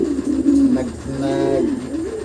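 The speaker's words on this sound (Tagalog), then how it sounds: "Hindi dito, marami pang ibon ni Pare Reggie dito" Racing pigeons in a fancier's loft coo steadily in low, throaty, rolling calls, several birds overlapping close by with no talk.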